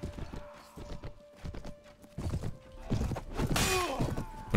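Horse hooves pounding in a medieval battle from the video game Mount & Blade: Warband with the Prophesy of Pendor mod, rapid thudding gallops with clashing impacts and a metallic shatter among the commotion.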